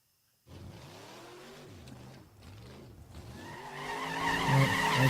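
A car accelerates and revs with rising engine harmonics over about five seconds, growing louder toward the end with a tire skid or squeal, heard alone without talk.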